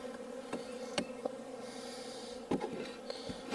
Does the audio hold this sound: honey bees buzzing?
yes